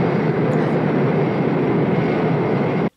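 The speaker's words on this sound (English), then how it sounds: "That's a rocket on an airplane." Steady, loud broadband roar of a space shuttle carried atop an airplane in the 1979 film Moonraker, a continuous engine-and-airflow rush that holds evenly and then cuts off abruptly near the end.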